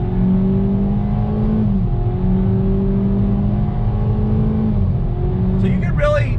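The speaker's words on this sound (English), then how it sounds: "So you can really hear those simulated shifts, and it keeps us moving forward without that annoying, crazy drone that you get from so many other CVTs" A 2021 Kia Seltos S small SUV accelerating under throttle with simulated CVT (IVT) shifts, a steady loud engine drone heard from inside the cabin, its pitch climbing and then dropping back at each stepped shift.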